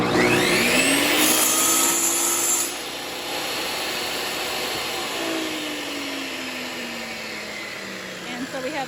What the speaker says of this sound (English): make a very nice clean cut on the table saw